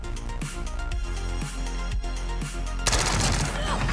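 A PPSh submachine gun in Call of Duty Warzone fires rapid, loud bursts at close range, spaced roughly every half second, then gives way to a denser, continuous rattle of gunfire.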